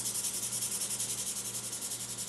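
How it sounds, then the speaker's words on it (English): Hand sanding across an acid-etched knife blade, light rhythmic back-and-forth rubbing strokes, a soft continuous hiss repeating quickly and evenly, close and fairly quiet with a faint low hum underneath. "That's why I'm not going real hot and heavy on the sanding."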